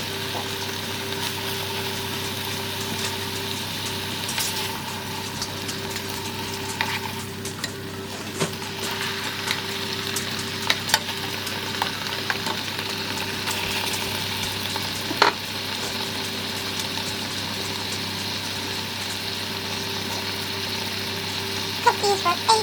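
Chili-rubbed steaks sizzle and fry steadily in a pan, a continuous crackling hiss with occasional louder pops and faint clatter, no talking over it.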